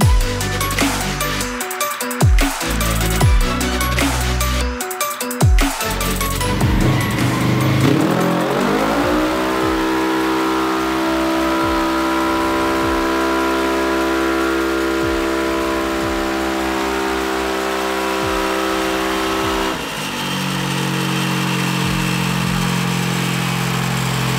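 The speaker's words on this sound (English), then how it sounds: "now I'm back again dynoing my Polaris RS1" A Polaris RS1 side-by-side with a Stage 2 power kit runs on a Dynojet dyno, first cracking and revving hard, then holding a loud steady high-pitched engine drone with a sustained whine, close and continuous with no talk.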